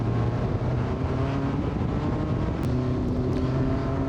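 An Elva Courier race car's engine drones steadily on the track at Laguna Seca, a loud, continuous roar that holds an even pitch from start to finish.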